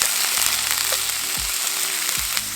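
Mushrooms fry in a hot pan for Filipino spaghetti with chicken longanisa, a loud close steady sizzle with a few soft stirring thumps.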